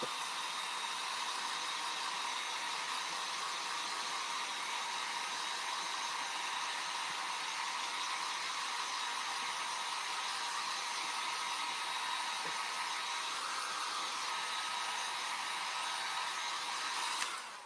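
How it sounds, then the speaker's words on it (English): A hair dryer drying milk paint on Christmas ornaments blows steadily at close range, a constant loud whooshing hum that runs unbroken before cutting off at the end. "I am going to hit this with the hair dryer."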